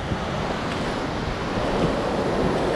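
Sea waves at Kudle beach in Gokarna, where a river joins the sea: a loud, continuous broadband wash of surf with wind rumble on the microphone, steady throughout and no voices.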